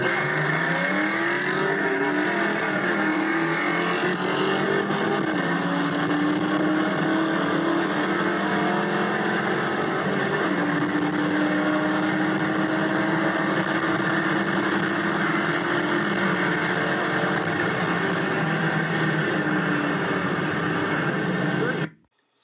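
A 2000 Trans Am WS6 LS1 V8 with intake and exhaust drag races a 4.6L modular Mustang, engines roaring and accelerating hard in a loud, continuous drone with shifting pitch before abruptly stopping.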